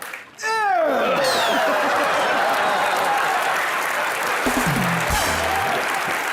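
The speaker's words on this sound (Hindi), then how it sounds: "जोरदार तालियां" After a brief sliding tone, an audience breaks into loud, sustained applause, the clapping dense and steady for several seconds.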